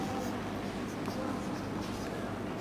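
Pen or chalk writing during a Class 10 science lesson on lenses, a faint continuous scratching against quiet room noise.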